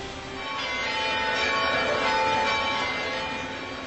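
Bells of 24 churches in Kalibo, Aklan, Philippines, ring in a sustained, blended wash of tones, fairly loud and continuous with no voices.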